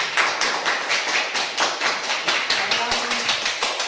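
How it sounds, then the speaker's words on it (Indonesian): A class of students clapping for a group, a fast, steady rhythmic patter of many hands close by, with soft thuds in the mix. "Tepuk tangan untuk kelompok itu."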